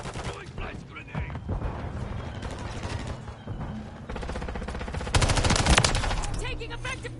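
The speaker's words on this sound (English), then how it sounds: "Taking effective fire." Modern Warfare 3 gameplay fills the scene with rapid automatic gunfire in dense, overlapping bursts, heaviest toward the end, with game voice callouts mixed underneath.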